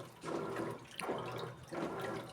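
Water rushing and splashing into the drum of an Electrolux Essential Care 14 kg LED14 washing machine as it fills for the rinse cycle, in three steady surging pulses with brief dips between them, close and moderately loud.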